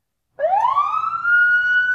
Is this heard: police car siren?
yes